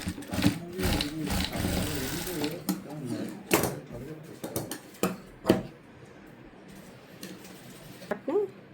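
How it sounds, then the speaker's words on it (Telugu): A sewing machine stitches piping onto a cut-work blouse in a tailoring boutique, its bursts of rapid mechanical running broken by pauses, with someone talking over it. "బ్యాక్ తిప్పేసి పైనుంచి ఒక స్టిచ్ అనేది వేయాలి."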